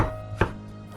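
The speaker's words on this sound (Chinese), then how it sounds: "姜切片，然后再切丝" A kitchen knife slices ginger into strips on a cutting board, with a single crisp chop and a softer second cut at the end of a brief moment, close and clear.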